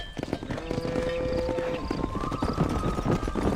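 A horse gallops in the Western video game Red Dead Redemption, steady rapid hoofbeats clopping close and loud, with a faint whinny and a sustained tone from the game music running underneath.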